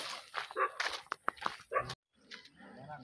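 A dog gives a run of short, close barks and yips with a brief whimpering edge, mixed with voices, then falls quiet before faint sounds resume.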